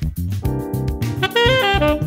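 A quick melodic phrase built on the dominant pentatonic scale over a dominant 7 chord, with rapid plucked notes and a sustained bass underneath, close and unaccompanied by speech.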